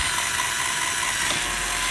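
A Lego roller coaster's chain lift mechanism running, giving a continuous rapid ratcheting clatter of small plastic parts and gears, close and steady with no talking.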